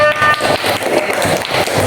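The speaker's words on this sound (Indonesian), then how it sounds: "Ya, tepuk tangan anak-anak." Children in a classroom clap their hands together in a quick, rhythmic pattern of close, bright claps that repeats evenly through the short moment.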